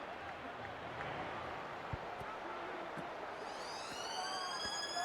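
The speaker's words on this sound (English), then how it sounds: "The siren has sounded." Rugby league match siren sounding at full time, a long rising wail that starts partway through, heard over crowd noise and a commentator's voice.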